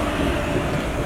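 Tirupati–Hubballi passenger train rolling past at close range, a steady loud rumble of wheels and carriages with no voices.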